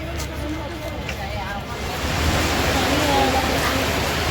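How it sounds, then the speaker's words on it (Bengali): Sudden heavy rain pours down outside a temple entrance, a dense, steady hiss that swells louder partway through and fills the whole scene. "হঠাৎ খুব জোর বৃষ্টি নেমে গেল।"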